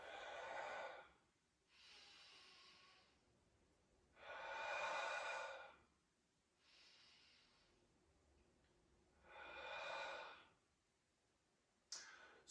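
A person doing mobility exercises breathes out through the mouth in slow, airy exhales, four or five long breaths at an even rhythm with quiet pauses between, close and soft with no talking.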